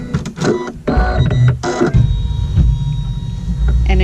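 A sewing machine runs a quilt block seam for a French Braid quilt in loud, close, choppy mechanical bursts that start and stop over a few seconds.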